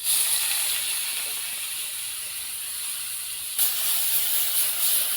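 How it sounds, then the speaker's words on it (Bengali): Steady loud hiss of shrimp frying in hot oil, a bright sizzle that holds constant and surges slightly near the end. "এখন আমি দিয়ে দিব চিংড়ি মাছ"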